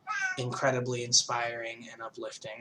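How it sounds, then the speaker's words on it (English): A house cat meows faintly in the background while someone speaks close to the microphone, the short cry rising briefly over his voice. "Sorry if you can hear my cat meowing."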